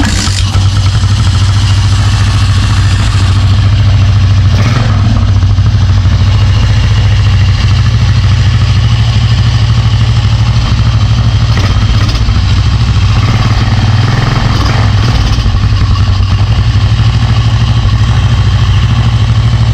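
A Motorstar motorcycle engine idles steadily and loudly up close, a continuous low throbbing hum with light clatter and slight swells, no speech.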